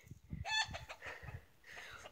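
An agitated rooster that has been attacking a person clucks and squawks a few times in short bursts, fairly close but not loud, over a quiet outdoor background.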